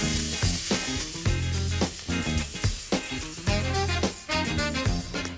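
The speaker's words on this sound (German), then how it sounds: "Zum Manka und zum Öl kommt auch gerade das Fleisch in die heisse Pfanne." Pieces of meat sear in hot oil in a pan, a continuous loud sizzle with crackling pops and a few stirring knocks, close up and with no voices.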